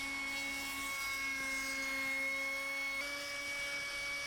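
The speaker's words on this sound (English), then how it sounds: "Just not pushing the trim router too far." A trim router cuts wood with a steady high-pitched motor whine that holds a constant tone and shifts pitch slightly as the bit meets the workpiece, close and continuous throughout with no talking.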